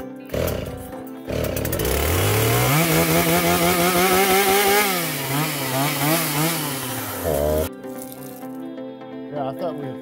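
Pole saw chainsaw engine starting and running while cutting brush, a loud close buzzing that revs up and down for several seconds, then cuts off, with people talking around it.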